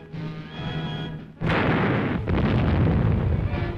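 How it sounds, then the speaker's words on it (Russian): A single heavy cannon blast from the cruiser Aurora erupts suddenly, loud and booming, followed by a long rumbling roar and noisy reverberation after a quieter stretch of background sound. "Выстрел с крейсера «Аврора» возвестил начало новой эры в истории человечества."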